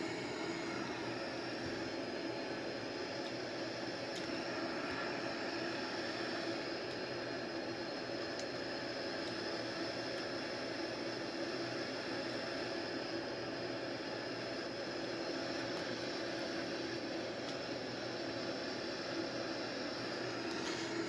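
Steady, unbroken roar of a Boeing 787 airliner in flight during an IFR flight, a broad constant engine and airflow drone heard from the cockpit, with no talk.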